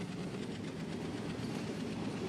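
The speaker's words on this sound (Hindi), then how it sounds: "और ईस्टर्न रेलवे का ये लोकोमोटिव है हावड़ा शेड का" WDM3D diesel locomotive of the Eastern Railway's Howrah shed in Trainz Simulator hauling an express, steady rumbling roll with rhythmic wheel clatter over rail joints, continuous and fairly loud with no talk.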